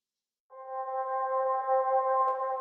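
A lofi guitar run through a Flux Mini plugin rings out as a single sustained chord with smooth, steady tones and a soft pluck midway, clean and alone after a brief silence.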